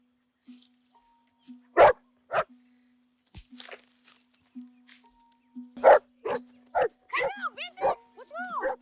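Vincent the dog barks in sharp, separate bursts over a steady low hum, with a cluster of quicker yelps near the end, mixed with people talking.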